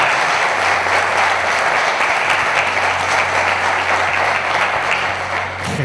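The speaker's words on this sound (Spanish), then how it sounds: "Por favor, un fuerte aplauso para él." A loud, dense ovation fills a hall at a mystery conference in Zamora as the crowd applauds the producer Jesús Ortega. Clapping runs continuous and even throughout, easing slightly at the end, with no voices over it.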